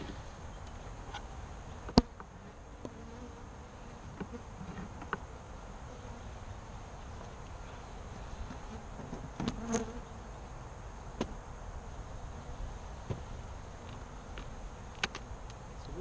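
Saskatraz honey bees two weeks after a package install, buzzing steadily in an opened hive, a continuous close drone with occasional faint knocks and clicks.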